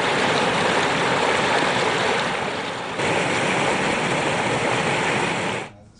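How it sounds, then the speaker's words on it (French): Clear spring water flowing in a mountain river in the Laâlam area of Algeria, a loud continuous rushing roar that dips briefly midway and fades at the end, with no voices. "qui laisse couler des eaux limpides d'une source qui ne s'arrête jamais"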